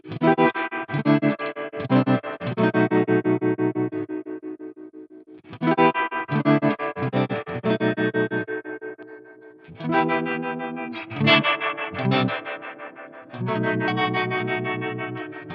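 Electric guitar through a Crazy Tube Circuits White Whale V2 pedal with analog tremolo and real spring reverb, playing chords and short phrases in bursts that pulse in volume, with reverb tails between them.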